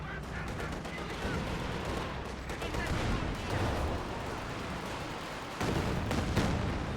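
Artillery barrage in a World War II tank battle video game, a dense continuous roar of gunfire and blasts with a louder surge near the end, mixed with voices talking.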